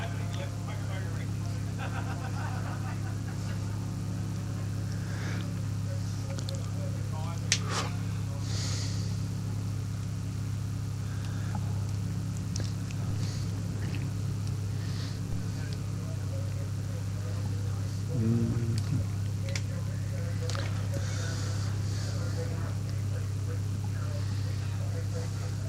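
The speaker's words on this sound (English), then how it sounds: "David Harris's WRX is getting close to the top there now" Subaru WRX race car climbing a hillclimb course near the top, its engine a steady distant drone heard under ongoing commentary.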